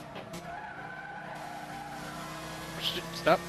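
A NASCAR Sprint Cup race car in Gran Turismo at Willow Springs skids over a rumble strip, its engine droning steadily under tire noise, with a brief voice near the end.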